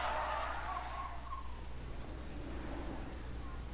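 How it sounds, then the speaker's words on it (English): A video game car brakes hard in traffic, its tires letting out a sharp squeal that fades over about a second. A low engine drone and steady background hum continue under it. "Almost as soon as it did, however, Stanley had to slam on the brakes."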